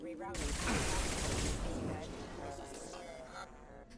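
Gunfire in Mass Effect 2 during a firefight: a dense, loud burst of rapid shots in the first couple of seconds that thins and fades toward the end, with a voice speaking over it.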